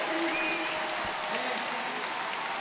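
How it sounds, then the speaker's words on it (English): A crowd at a Trackmania esports tournament finals gives a standing ovation, a steady wash of clapping that holds for a few seconds with a commentator's voice faintly over it. "Standing ovation from the crowd as well."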